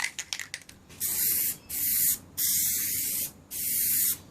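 A PlastiDip aerosol can sprays a second coat in four steady hissing bursts, each about half a second long with brief pauses between, after some quick clicks and rattles at the start.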